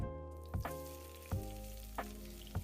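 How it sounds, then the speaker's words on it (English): Chopped onions, pepper and tomato fry in a little oil for a Nigerian-style plantain frittata, giving a steady close sizzle with a few louder bursts and stirring clatters at irregular intervals. "you fry your chopped onions, pepper and tomato in a little oil"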